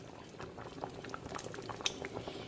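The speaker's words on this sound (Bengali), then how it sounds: "বেশ কিছুক্ষণ ফুল আছে ফুটিয়ে নিলাম গ্রেভির সঙ্গে মাটনটাকে" Mutton curry bubbles in thick gravy at a steady boil, soft pops and blips coming continuously at close range with one brighter plop near the end.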